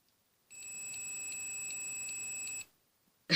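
A multimeter on continuity setting emits one steady high-pitched electronic tone lasting about two seconds, clean and fairly loud against near silence, followed by a brief clatter.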